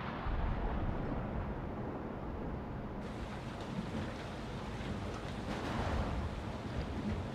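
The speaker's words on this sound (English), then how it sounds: "Ah, lightning. It's a storm." A rolling thunderstorm rumbles steadily in the horror video game Man of Medan, with low, continuous thunder and rain-like wash filling the whole stretch, loud and close, with no voices.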